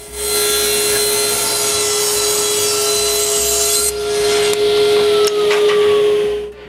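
A saw cuts the two straight sides of a glued wooden domino jig. Its loud, steady, high whine runs throughout, with blade-on-wood rasping that shifts slightly near the end.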